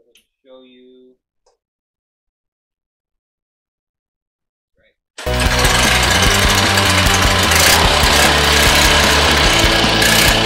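A cheap Harbor Freight Predator small gas engine running indoors in an enclosed space, starting abruptly after a brief spoken word and near silence, then a loud, harsh, continuous rattling chug to the end.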